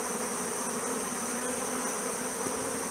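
Stingless bees at a hive entrance in Newfoundland make a dense continuous buzzing hum, steady and close, with no voices.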